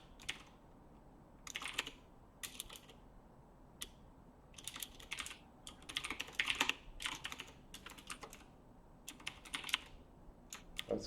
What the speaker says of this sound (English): We're just typing a bunch of stuff.